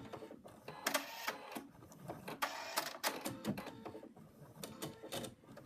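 An embroidery machine stitches out one colour around a small rectangle on a mug rug, giving rapid mechanical clatter in uneven bursts with short pauses, close but fairly quiet, and no speech.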